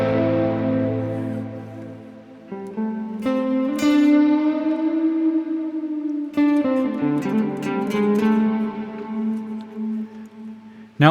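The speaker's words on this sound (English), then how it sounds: "I can actually add a reverb here on the bottom" Guitar played through a reverb effect in Native Instruments Guitar Rig 6: sustained chords and single notes change every second or two, each ringing out with a washy reverberant tail. Clear and fairly loud, with no talking.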